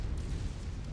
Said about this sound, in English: So many explosions, that's going to be problematic, actually.